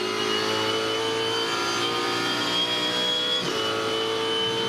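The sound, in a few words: Supercars racing engines at 240 km/h in 5th gear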